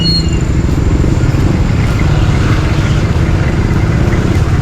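Heavy road traffic with motorcycles and cars, a dense, steady rumble of idling and slowly moving engines, loud and continuous throughout.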